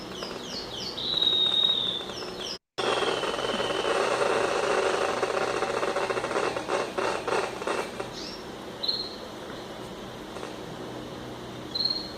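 Neurons firing in a birdsong neural recording, played back as audio, make sharp clicks. Clusters of rapid clicks crackle through a scratchy background, and thin, bird-like whistled tones appear near the start and end.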